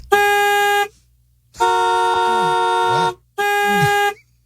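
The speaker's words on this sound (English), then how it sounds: "there is nothing but cars honking all the time." Three loud, sustained car horn blasts, each lasting around a second, separated by short silences, close to the listener.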